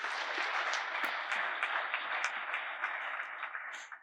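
Congregation applause fills a church, a dense sustained wash of many hands clapping at once, loud and steady throughout with slight fading near the end.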